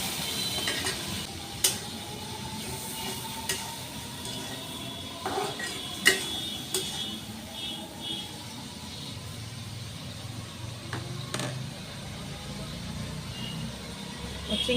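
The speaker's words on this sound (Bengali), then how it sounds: "আমি চিংড়ি মাছগুলো ভালো করে তেলের মধ্যে ভেজে নেব" Large prawns fry in hot oil in a home kitchen pan, giving a steady, low sizzle with occasional sharp clinks of a utensil against the pot, continuous for the whole stretch.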